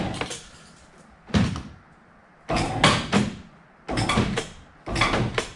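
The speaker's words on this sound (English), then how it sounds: "You can hear it creaking and groaning right now." A fiberglass boat hull stuck in its mold creaks and groans as a winch lifts it, producing four loud, close bursts of straining, grinding sound separated by short quiet gaps.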